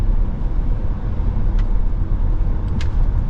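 A 2024 Cadillac XT4 Luxury AWD driving on the road gives a steady low rumble of road and tyre noise inside the cabin, with a couple of faint brief clicks and no talking.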